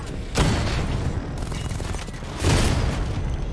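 The Batmobile's cannon in the video game Batman: Arkham Knight fires twice, two heavy booming blasts a couple of seconds apart over a dense rumble of battle noise.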